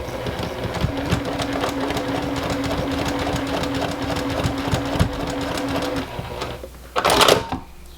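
A sewing machine runs a quarter-inch seam joining two fabric squares placed right sides facing, stitching in a fast, steady rhythm for about six seconds before stopping, followed by a short burst of handling noise.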